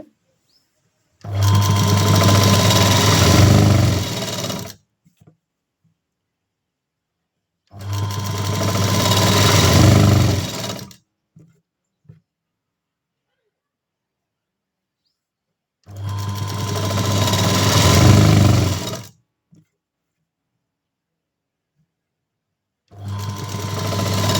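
Sewing machine stitching a blouse runs in four long bursts of rapid mechanical whirring, each several seconds long with near silence between, close up and without talk.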